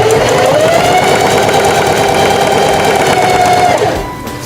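A Singer 4423 sewing machine runs a zigzag stitch in a steady, loud mechanical whir for about four seconds, then winds down as it stops.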